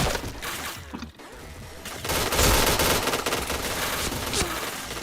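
Rapid bursts of gunfire from a shooting video game, dense overlapping volleys that swell louder in the second half, with a brief lull near the one-second mark and no talk over it.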